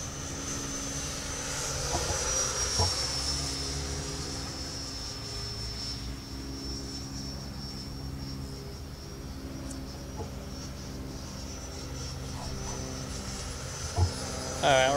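An Arrows RC 64mm Marlin electric ducted-fan model jet in flight, a steady distant whining whir drifting slightly in pitch over outdoor background noise for the whole stretch.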